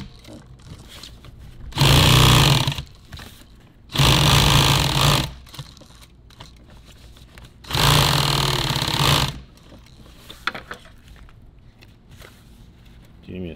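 Sewing machine stitching nylon tactical gear, running in three loud sustained bursts of roughly one to two seconds each with quiet pauses between, while people talk in the background.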